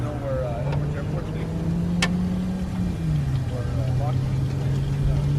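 A supercharged Lamborghini Huracan 610-4 with a VF Engineering supercharger runs steadily at idle, a low droning engine tone that rises slightly and settles, close by with a voice speaking over it.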